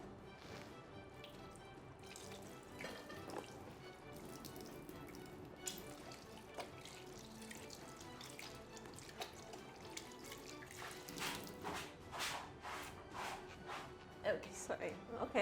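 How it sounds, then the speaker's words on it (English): Hands rinsed under a running tap at a sink, a faint steady water stream with small splashes and drips, while people talk over it throughout. "rinse my hands"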